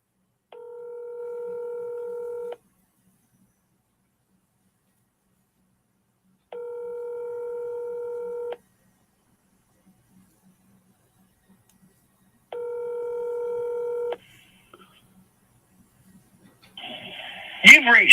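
A telephone call rings out unanswered: three evenly spaced ringback tones about two seconds long with pauses between, followed by a brief click and the start of a recorded voicemail message.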